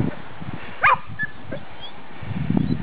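A collie gives a short yelping bark in cold weather outdoors, a single brief high cry followed by a few faint yips over low background rumble.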